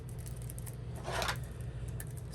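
Scissors snip through plastic wrap on a card pack in one short, crisp cut close by, faint and isolated against a quiet room hum.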